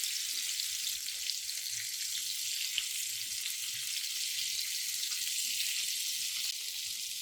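Fish shallow frying in a pan over low to medium flame, a continuous bright sizzle that stays even and fairly close throughout, with no speech.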